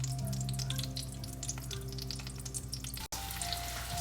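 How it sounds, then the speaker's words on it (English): Tuna patties fry in butter in a pan, giving a close, steady sizzle with crackles and small pops throughout. "So we're going to start pan frying the tunas."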